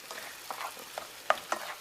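Macaroni and cheese in a pot being stirred, soft scraping with a few sharper clinks of the spoon against the side, close and fairly quiet with a faint sizzle beneath.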